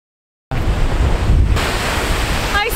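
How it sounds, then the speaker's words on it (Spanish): Large surf at Domes Beach in Puerto Rico roars in a loud, continuous wash after a brief silence, with wind buffeting the microphone. "Esta es la playa que es súper famosa para los surfers porque las olas, como pueden ver, están súper, súper gigantesca"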